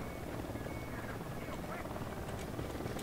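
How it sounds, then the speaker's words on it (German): Helicopter approaching in the video game Ghost Recon Wildlands, a faint, steady rotor whir and chop under a dense wash of game noise, continuous for a few seconds. "Kommt ein Heli."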